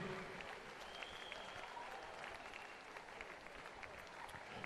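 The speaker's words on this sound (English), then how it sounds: "Big round of applause for them also, leading the team." Steady, moderately quiet applause from a crowd at a county swimming championship, honouring the team coaches; continuous clapping with a few brief voices mixed in, lasting throughout.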